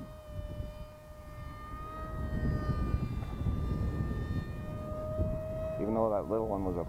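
Electric ducted-fan motor of an RC model MiG-35B jet on a 4S battery thrusting at steady high power, a sustained whine with engine drone and wind rumble, and a short chirping burst near the end.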